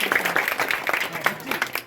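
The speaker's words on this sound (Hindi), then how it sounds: "जोरदार ताली सब लोग बजाना।" A crowd claps at a statue unveiling of Dr. Bhimrao Ambedkar in Faridpur, a dense, moderately loud burst of applause lasting a couple of seconds, with voices mixed in.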